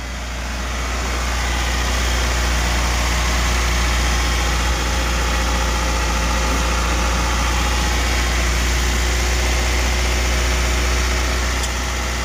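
Swapped 165,000 km engine in a Honda HR-V idling steadily and close by, a continuous low rumble with a constant hum, no voices over it.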